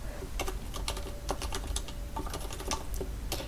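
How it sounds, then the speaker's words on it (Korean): Rapid typing on a computer keyboard while entering text in an Excel spreadsheet, with Alt and Enter presses among the keys; a quick, close run of crisp clicks and clacks with no talking. "키보드에서 Alt 키 누른 상태에서 엔터 하시는 겁니다."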